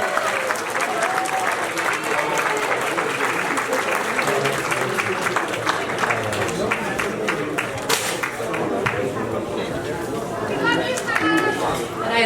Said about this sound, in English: Our applause and thanks to Simone.